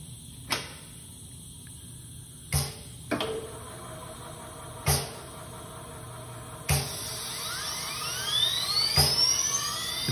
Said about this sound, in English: This is a Moore G-18 jig grinder, built approximately 1987